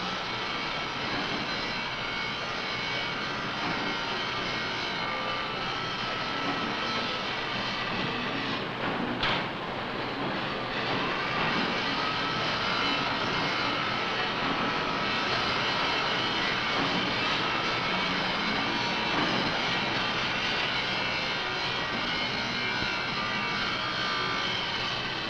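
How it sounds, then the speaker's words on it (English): Continuous factory machinery roars through a fabrication and molding plant at Tektronix, a loud, steady broadband drone with a brief sharp clank near the middle and no speech. "These are the sounds people at fabrication and molding live by."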